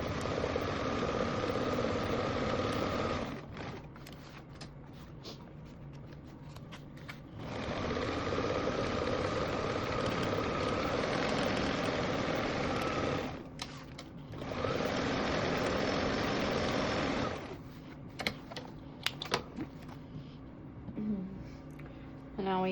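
Sewing machine basting a 1/8 inch seam around the perimeter of a tote bag with stabilizer inside, running in long steady whirring bursts separated by short pauses, close and loud.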